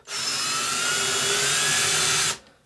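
A power drill with a pointed bit spins up and whirs at a high, steady pitch for about two seconds as it bores into a wooden cabinet, then abruptly stops.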